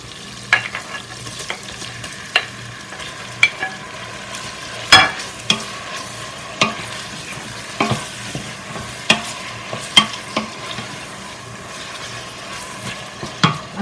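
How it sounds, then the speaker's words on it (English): Beef frying in a pan for coconut rice, stirred steadily: a constant sizzle under frequent rhythmic spatula scrapes and knocks against the pan, close and loud. "And then I'm going to toss in my beef."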